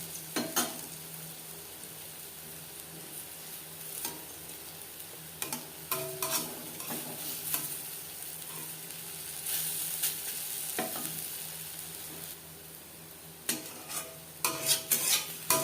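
Lentil fritters (bora) frying in oil in a kadai, a steady sizzle broken by sharp clinks and scrapes as they are turned, with no voices.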